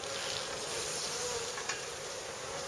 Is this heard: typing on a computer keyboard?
no